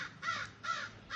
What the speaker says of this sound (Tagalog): Itong uwak naman na to.